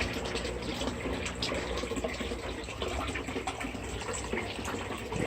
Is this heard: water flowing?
yes